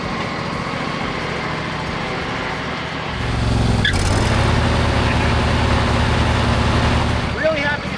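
A 20-year-old John Deere riding lawn mower's small engine runs and rises in pitch and loudness as the machine starts driving under its own power, a steady close drone with a brief voice near the end.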